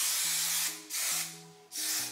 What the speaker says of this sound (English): Now my Kenra hairspray,